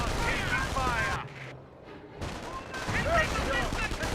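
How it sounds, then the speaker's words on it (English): Sniper and small-arms fire in a Company of Heroes 1 battle, with dense crackling shots before and after a brief lull near the middle and talk running over the fire. "Sniper does get some good shots there"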